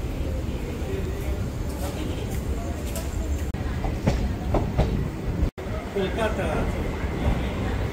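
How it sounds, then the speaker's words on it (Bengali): A Digha–Kolkata special train pulls into Kolkata station with continuous rumble and rolling rail noise, a few clanks and screeches, and voices talking over it in a busy carriage. "এই যে আমাদের ট্রেন অবশেষে 1:46 বাজে কলকাতা স্টেশনে এসে পৌঁছালো।"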